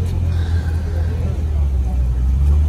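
Classic sports car such as a Lancia Monte Carlo or Ferrari 308 GTS rumbling nearby, a steady low engine drone with traffic noise around it and voices talking over it.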